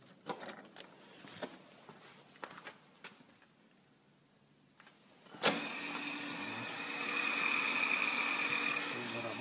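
A Steton P70C hot press switches on with a sharp click, then its pump settles into a steady, quiet mechanical hum that grows slightly louder, after faint handling taps.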